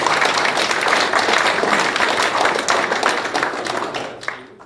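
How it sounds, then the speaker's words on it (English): A crowd applauds steadily for several seconds, dense clapping that tapers off toward the end. "if you could give these gentlemen a round of applause"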